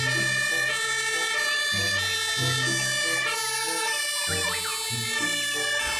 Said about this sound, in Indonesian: Widih, mobil damkar teman-teman.